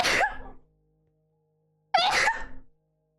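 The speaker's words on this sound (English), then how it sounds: "I also have to sneeze." Two human sneezes, each a sharp, loud burst trailing off over about half a second, separated by roughly a second of near silence.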